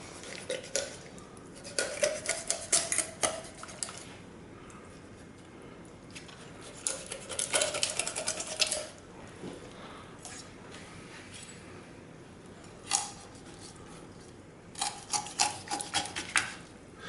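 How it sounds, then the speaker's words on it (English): A knife cuts the backbone out of a whole raw chicken, making faint intermittent scraping, crunching bursts at close range with quiet pauses between strokes. "If you find that it's hard to cut, you're probably too close to the backbone and you need to go out just a little bit with the knife"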